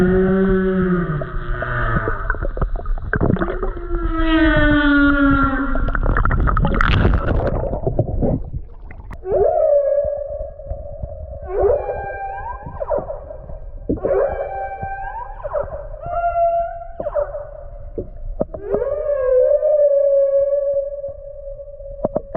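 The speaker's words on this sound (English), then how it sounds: "This is the sound of a male humpback whale singing" Long, low moaning calls of a male humpback whale singing rise and fall in repeated phrases, carrying clearly through the water with no voices.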